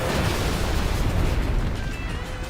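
Fireworks attack from Final Fantasy X-2 going off in a dense, loud burst of crackling explosions and booms that hold steady for a couple of seconds, then ease off slightly.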